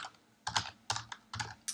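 Keystrokes on a computer keyboard come in short bursts of clicks, four quick clusters in under two seconds, close and fairly quiet with no talking.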